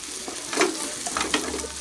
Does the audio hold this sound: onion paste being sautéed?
yes